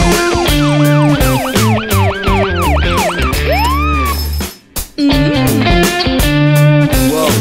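A toy-style police car siren in a children's vehicle cartoon wails loudly in rising and falling sweeps, shifts to a different siren pattern, cuts out briefly, then resumes with a busy, bright tone alone.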